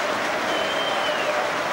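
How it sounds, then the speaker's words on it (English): A stadium crowd at the FA Cup match between Luton Town and Liverpool keeps up a steady wash of applause, dense and even throughout the brief moment. "No wonder Mike Newell applauds the fans."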